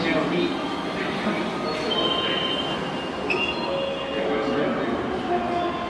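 A JR 227 series train in Carp livery rumbles along the platform on the Sanyo Line at Hiroshima Station, with metallic wheel squeals and a station announcement voice over the noise.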